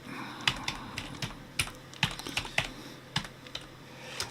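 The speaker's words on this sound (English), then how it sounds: "I'm typing on the wrong computer." Typing on a computer keyboard, close and fairly loud: a brisk, irregular run of sharp key clicks with short pauses between bursts, and no talking.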